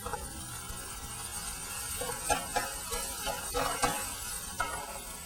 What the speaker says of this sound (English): just when it's sizzling